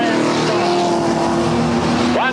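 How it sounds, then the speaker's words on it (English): A 1979 super sedan race car roars past at close range during a 150-lap grand classic, its loud engine note sustained throughout and dropping in pitch at the end as it goes by, with a commentator talking over it. "it's Pizzuti the leader, passing us now in this Coca-Cola segment of the Coca-Cola W"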